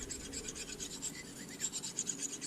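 An Opinel knife blade being sharpened on a 30,000 grit stone, a steady faint rasping rub that repeats in quick, even strokes, close up, with no voice.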